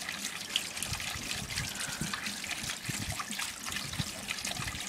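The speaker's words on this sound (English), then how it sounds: "Pump has just been going now for about a few seconds, and it seems to be adequately lifting the water up." Water pumped up a filter riser in a radial flow filter setup pours and trickles steadily, a continuous close splashing flow with no pauses.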